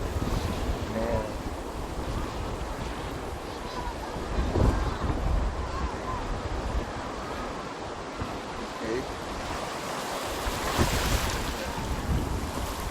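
Waves wash onto a beach on New Year's at Puerto beach, a steady broad roar of surf with wind buffeting the microphone and a couple of louder swells breaking through.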